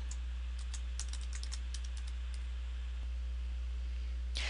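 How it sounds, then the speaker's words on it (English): Quiet computer keyboard typing while a name is entered into a SharePoint 2010 site column form: a run of close, crisp keystrokes through the first half, then sparse taps and one sharper click near the end. "So I'll type the name in."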